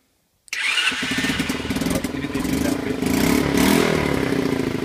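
A Sky Team ST50 50cc bike engine starts suddenly after a moment of silence and keeps running with a loud, close, rattly idle that rises slightly near the end, with no talking.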